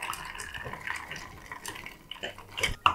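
A cocktail is stirred with freshly cracked ice in a mixing glass, giving soft watery swirls and a few sharp ice clinks near the end, close and fairly quiet.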